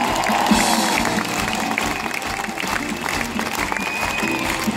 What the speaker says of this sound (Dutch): En ik zou u echt even willen vragen om een groot applaus te geven